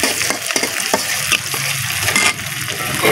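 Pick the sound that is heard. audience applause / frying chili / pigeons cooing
frying chili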